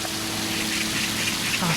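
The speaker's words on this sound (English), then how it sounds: "the calming sound of this waterfall here." A waterfall at a nature park in Anyang, Korea, pours as a dense, steady roar of rushing water that is close and loud throughout.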